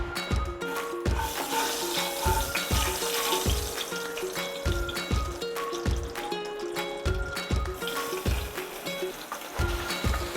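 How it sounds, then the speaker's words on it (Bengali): Cubes of paneer fry lightly in oil in a pan for a chana masala, a continuous sizzle punctuated by regular scraping and stirring clacks of a spatula, close and without talk. "এবার পনিরটাকে আমি হালকা করে ভেজে নেব।"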